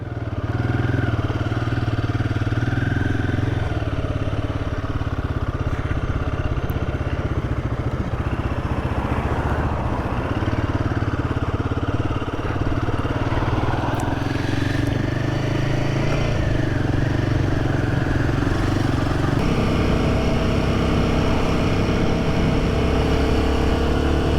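A Royal Enfield Guerrilla 450 motorcycle engine runs continuously up close, its steady exhaust drone rising and falling as the rider accelerates and shifts.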